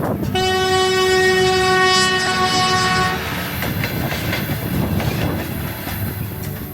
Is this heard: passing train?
yes